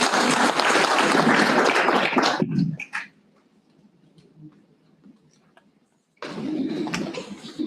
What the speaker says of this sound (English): A round of applause for her also.